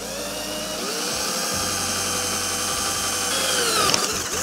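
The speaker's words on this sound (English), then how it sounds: "Now, before I attach this stuff together, I'm gonna drill my pilot holes." A continuous high-pitched power drill whine drilling pilot holes in aluminum, steady and close, with a brief strain and wobble in pitch near the end.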